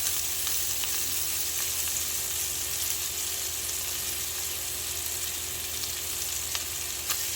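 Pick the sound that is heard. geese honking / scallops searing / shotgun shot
scallops searing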